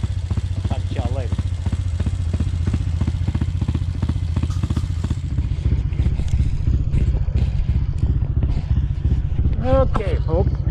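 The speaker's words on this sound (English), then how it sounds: "Just listen to the bike." A Honda CT motorcycle's engine runs with a steady, close, low thrum and rapid putter during a ride, with someone talking over it throughout.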